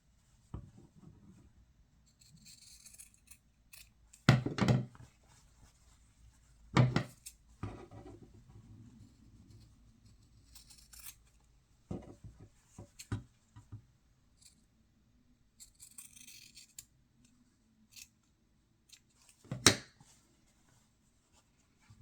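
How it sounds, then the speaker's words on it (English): Scissors trimming the edges of pressed fabric pieces for a drum pincushion, heard as quiet, close snips and rustles scattered irregularly over a hushed room, with no voices. "I'm going to trim it up so they're all matching on the edge here."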